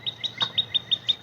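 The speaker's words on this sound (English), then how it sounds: "Listening to the birds in the background." Small birds chirp outdoors in a steady, quick series of about seven short, high tweets, evenly spaced and fairly close, over a soft background hush.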